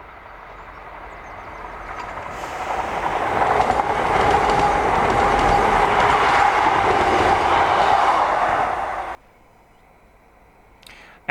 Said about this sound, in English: we see a ScotRail Class 170 and 158 DMU combination, as 170-395 and 158-729 pass Dolpha Burr with a train from Inverness.